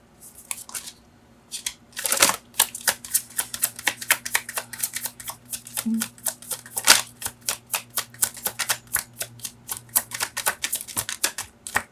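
Tarot cards are shuffled and riffled by hand in quick, uneven bursts of papery flicks and taps, close and fairly quiet, with a steady low hum underneath.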